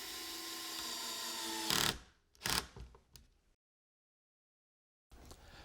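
A steady mechanical whir gives way to a few short, sharp bursts of a power drill driving screws into a workbench, then silence before the motor hum returns.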